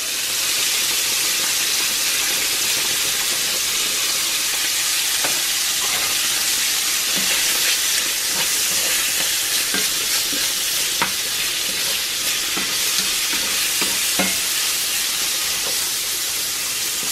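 Chicken, bacon and potatoes fry in bacon grease in a cast iron pan, a loud, steady sizzle with repeated scraping clicks as the food is stirred, no voices.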